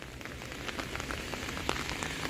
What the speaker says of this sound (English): Farmer's market in the rain.